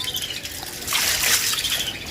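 Dirty, silty water pours out of a water tank during cleaning, a continuous close trickling and splashing that swells louder midway, with no talking.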